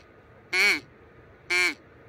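Two separate nasal quacking calls imitating a goose or duck, evenly spaced about a second apart, close and clear against a quiet background.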